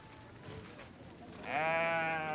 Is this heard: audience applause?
no